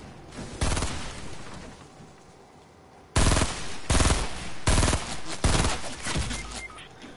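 Rapid automatic gunfire in the video game Fortnite, a short burst followed by a quiet gap, then several loud, close bursts of sustained fire in quick succession.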